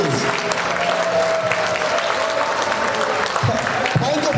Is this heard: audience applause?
yes